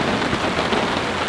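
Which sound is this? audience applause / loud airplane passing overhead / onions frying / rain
rain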